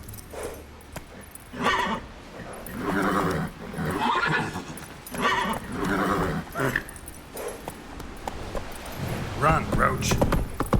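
In the Witcher 3: Wild Hunt video game, a horse whinnies and snorts repeatedly while galloping hooves clop underneath, loud and close, with a voice speaking between the neighs.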